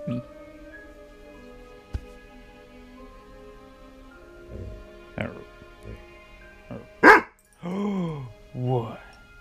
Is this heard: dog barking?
yes